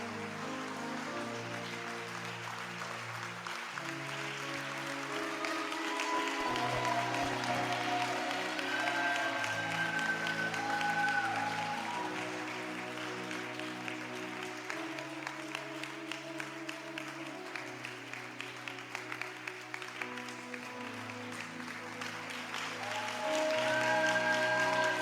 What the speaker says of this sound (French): Si tu es béni, acclame fortement ton Dieu.